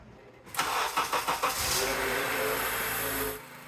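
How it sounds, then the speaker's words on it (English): A 2004 Honda Accord cranks for about a second with several rhythmic starter pulses, catches, and settles into a loud, steady idle close by before cutting off. "And now I'm ready to start the car."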